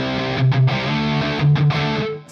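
Dry electric guitar played through a Soldano SLO 30 amp with modest gain and no reverb, heard alone and close: sustained distorted chords with two short accented stabs in a repeating rhythm, ringing on between hits.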